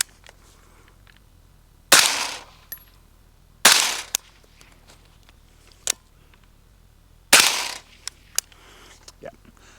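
Suppressed Romulus 5.56 rifle firing three close, sharp muffled reports, each followed by a brief metallic buffer spring ring, with faint clicks between shots.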